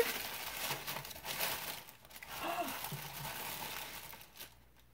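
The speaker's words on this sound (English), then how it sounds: "On top, there's some tissue paper." Tissue paper crinkling and rustling on top of a boutique unboxing box, soft irregular crackles near and fairly quiet, with a voice talking over them.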